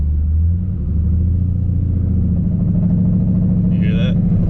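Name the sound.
4th gen Camaro rear end or drive shaft noise while driving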